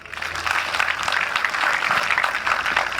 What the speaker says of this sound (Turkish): sizden güçlü bir alkış istiyorum